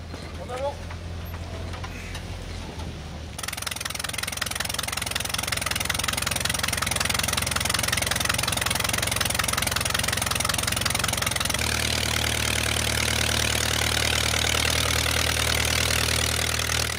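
A 1936 Bücker Jungmann, a German aerobatic trainer, idles with its engine running. The steady, loud mechanical drone begins after a few seconds of lower background noise and continues unbroken to the end.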